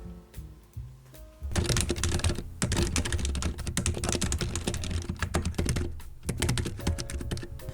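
Rapid typing on a silent-switch mechanical keyboard with soft, muted keystrokes in a steady rhythm, briefly pausing before resuming, close up.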